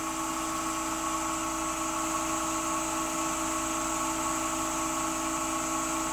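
A Nova Galaxi DVR 1644 wood lathe running at 1616 RPM gives a loud, steady, high-pitched whine with a constant mechanical hum and resonance, alone and unbroken throughout.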